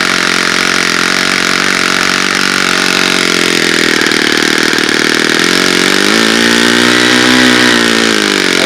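A small four-stroke model engine runs continuously on rich break-in fuel, loud and close, with a steady buzzing drone that dips and rises in pitch near the end.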